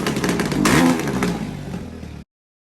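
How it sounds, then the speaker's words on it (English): A Honda CRF450X dirt bike engine runs loud and close for about two seconds, with a rough, sputtering note that may include backfire pops, then cuts off abruptly into silence. "Maybe I have a clip of it running. I'll drop in here. Just pop, pop, pop, pop, pop. Backfiring,"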